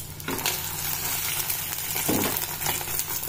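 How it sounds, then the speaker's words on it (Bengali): Two omelettes fry in a pan in a home kitchen, seasoned only with salt. A steady, even sizzle runs throughout with no talking. "আমি এখন অমলেট বানাচ্ছি, দুজনের দুটো অমলেট।"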